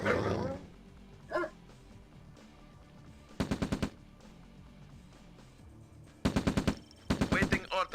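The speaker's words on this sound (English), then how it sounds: "Doggy still kills the same way." In Command & Conquer Red Alert, an attack dog yelps and barks in short bursts while rapid machine-gun volleys rattle out in several sharp clusters, with quieter stretches between.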